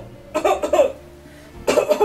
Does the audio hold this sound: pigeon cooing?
no